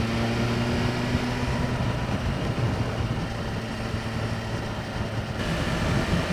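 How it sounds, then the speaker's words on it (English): Steady, continuous engine and exhaust drone from a 2023 BMW S1000R motorcycle, a constant loud tonal hum with low harmonics running the whole time with no talk. "I can hear what the engine's doing in front of me. I can hear what the exhaust's doing behind me."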